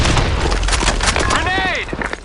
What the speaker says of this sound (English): Fire in the hole! Grenade! Fire in the hole!